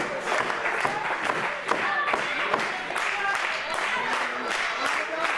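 A wrestling crowd claps and cheers in a loud, continuous wash of applause with scattered sharp claps and voices mixed into the din.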